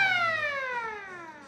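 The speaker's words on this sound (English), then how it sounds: "They do blow off a siren when this bridge is gonna be open." A single steady siren-like wail from a model railroad bridge siren, with a slowly falling pitch, sounds for over a second, fading slightly as it goes.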